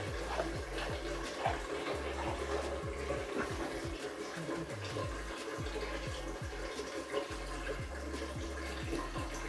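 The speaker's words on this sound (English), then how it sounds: "cold water running." Cold water running from a kitchen tap while baking bread, a faint, steady trickle with quiet repeated low thumps underneath.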